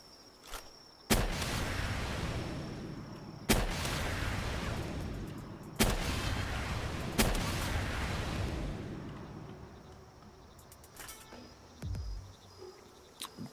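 A grenade launcher in the video game Palworld fires four heavy blasts, each a sudden boom with a long rumbling explosion tail, spaced a couple of seconds apart, followed by quieter scattered game sounds.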